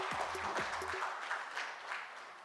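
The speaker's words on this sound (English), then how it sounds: "can I have a big round of applause for each one of you present here?" Audience applause at a healthcare and wellness awards ceremony in Chennai, a dense wash of clapping from a crowd, fairly distant and steady, fading slightly toward the end.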